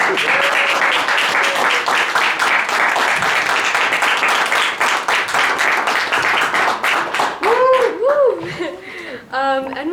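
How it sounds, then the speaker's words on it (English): Loud, dense applause from a panel-discussion audience at a CUNY peace and justice summit, steady clapping throughout with some laughter, and voices and whistles rising near the end. "can we please give them a round of applause?"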